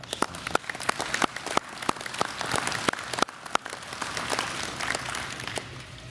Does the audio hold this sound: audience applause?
yes